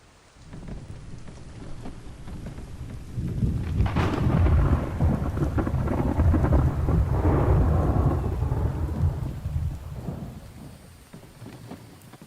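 Steady rain pours in the video game The Infected, with a long rolling rumble of thunder that swells in the middle and fades, heard alone without any talk.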